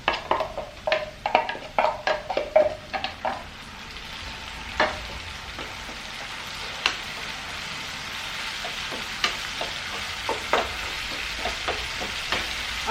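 Potatoes fry in oil in a pan for a tin fish curry, with a steady close sizzle and crackle and a series of sharp scraping stirs at the start, then occasional stirs.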